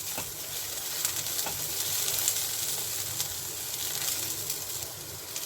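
Half a medium-sized tomato fries in hot oil in a pan, giving a steady, continuous close sizzle with a light hiss throughout and no talking.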